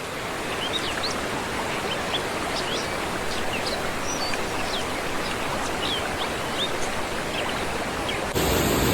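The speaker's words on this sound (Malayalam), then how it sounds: "ഇതാണ് നമ്മുടെ ഹരിതീർത്ഥക്കര വെള്ളച്ചാട്ടം." Harithirthakkara waterfall pours in a steady, loud broadband roar close by, with faint bird chirps scattered over the rushing water.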